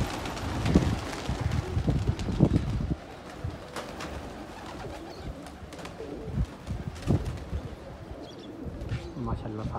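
Pigeons coo softly amid wind buffeting and fluttering, with a voice speaking intermittently over the outdoor noise.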